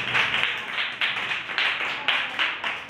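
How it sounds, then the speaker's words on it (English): Students in a classroom clap in a few short, rhythmic bursts, close and crisp, each volley of hand claps rising and fading in quick succession. "Clap for yourself."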